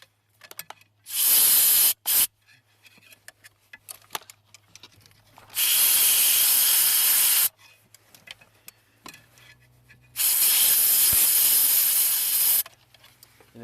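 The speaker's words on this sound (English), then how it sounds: "I'm going to use a brake line blower tool to get to the back of the box and just try to blow some of that oil out" A brake line blower tool blows oil out of the back of a fuse box on a 1997 Ford F150 in three loud, steady hissing blasts of air, with quiet clicks and handling noises between them.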